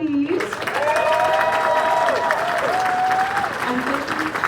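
Steady crowd applause at the closing ceremony of the Furcationland festival, honoring staff and volunteers, with a voice speaking over the clapping.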